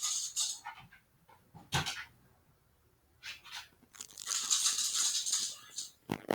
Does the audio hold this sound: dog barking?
yes